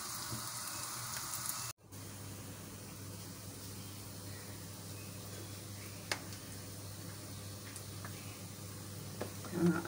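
Onion fries in a pan until brown, a faint steady sizzle with a few small clicks and a brief cut near the start.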